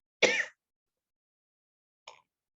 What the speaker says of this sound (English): Intense coughing right now